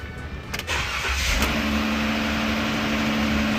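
A car engine cranks briefly, catches and settles into a steady idle with a low hum.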